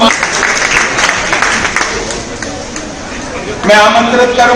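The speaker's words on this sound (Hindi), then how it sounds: "आप सभी का जोरदार तालियों के साथ आपका स्वागत करें।" Audience applause greets a nurse invited to the stage at a memorial honouring doctors, nurses and sanitation workers; steady crowd clapping runs throughout and swells louder near the end, with some talk mixed in.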